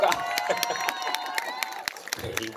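An audience at a humanities lecture claps in a dense, lively burst of applause, with a voice speaking over the clapping.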